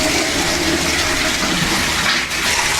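Strong water flow from a deep well pouring into a small basin, a loud continuous rushing splash that holds steady throughout.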